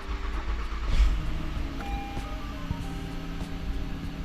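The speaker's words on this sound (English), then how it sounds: "gonna have a extended crank on initial startup here just because the fuel system lost its prime" A 2018 Honda 3.5 V6 gets an extended crank on startup because its fuel system lost prime. The starter whirs before the engine catches and settles into a close, steady idle, with no voices.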